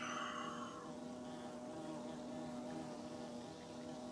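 The Hive area in Hollow Knight fills with a steady, faint insect buzz that drones evenly throughout under a low ambient hum.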